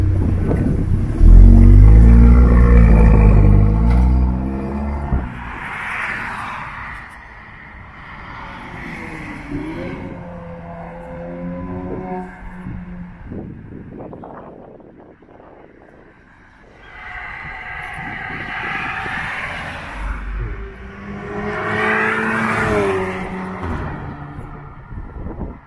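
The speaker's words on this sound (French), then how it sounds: "on va filmer de l'extérieur en fait, pour que vous puissiez voir le bruit quand la voiture en fait est à pleine charge" An Audi S3 8V with a stage 2 tune runs at full load and is heard from outside, swelling as it passes, fading, then surging again in loud roaring pulls.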